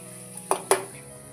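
Curry leaves hit hot oil for tempering, giving two sharp crackles close together over a faint, steady background hiss.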